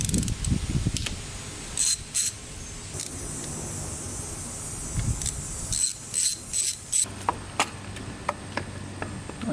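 A hand ratchet works bolts loose on a Yamaha Raptor 660 quad engine in bursts of quick, close metallic clicks separated by quieter pauses and small handling noises.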